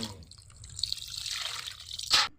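Sirmen fish are washed by hand in water, giving soft sloshing and dripping with one sharper splash near the end, close and fairly quiet.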